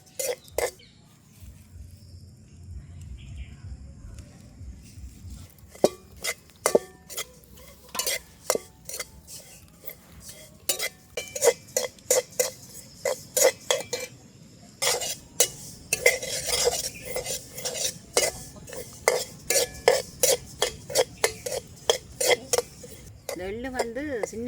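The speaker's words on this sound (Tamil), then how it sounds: "இப்போ கையெடுக்காமல் நாங்கள் வறுத்து கொண்டே இருக்கோம்." Sesame seeds scraped and stirred as they roast in a metal pan, with rapid irregular clinks and scratches of a spoon against the pan, close and steady throughout.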